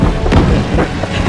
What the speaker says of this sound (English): Coming up on anti-aircraft fire.